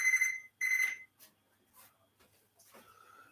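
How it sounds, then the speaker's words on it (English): A kitchen timer going off while breakfast cooks on a boiling stove, giving two loud electronic beeps followed by faint quieter kitchen sounds. "here comes the timer"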